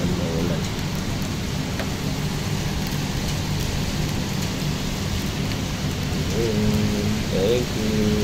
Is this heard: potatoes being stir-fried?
no